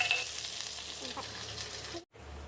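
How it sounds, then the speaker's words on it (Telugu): Steady hissing sizzle of chopped onions and green chillies frying in hot oil, with a brief silence near the end before the crackle resumes. "ఉల్లిపాయ ముక్కలు పచ్చిమిర్చి ముక్కలు వేసి బాగా వేయించుకోవాలి"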